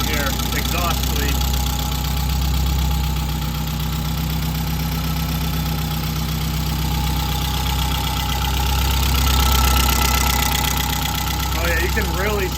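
A Saab 900 Turbo idles with an exhaust leak, a steady rough low rumble held at an even level throughout, with people speaking over it near the start and end.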